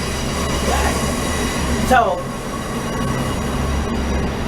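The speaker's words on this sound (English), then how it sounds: "I thought that was the end of the train." A train passes close by, its wheels squealing in a brief high screech midway over a steady low rumble of rail cars, while a person speaks over it.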